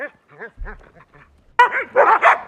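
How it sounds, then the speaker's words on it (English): A small dog gives a run of quick yips and whimpers, then breaks into a louder burst of close, sharp barks. "they sound like small dogs"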